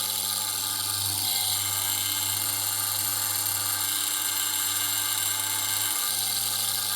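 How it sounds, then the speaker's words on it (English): A demagnetiser hums steadily as it pulls magnetism from a handmade bushcraft knife blade that had picked up metal particles from a surface grinder's magnetic chuck, a constant electrical buzz with a bright high whine throughout. "we'll demagnetise it to get all these little bits off"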